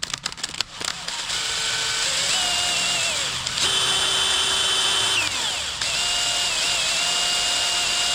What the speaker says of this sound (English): I'm going to put it in my drill and just kind of spin it.